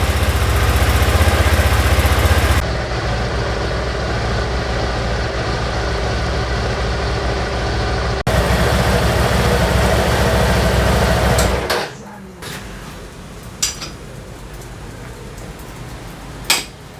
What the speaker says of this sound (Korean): 이렇게 하고 10분 정도 시동을 걸어 놔둘 거야.